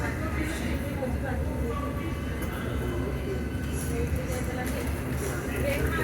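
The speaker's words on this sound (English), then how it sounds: "This train is ready to depart." Metropolitan line London Underground train pulling away from a station, a deep continuous rumble with rail noise and a faint whine, heard from inside the carriage and steady throughout.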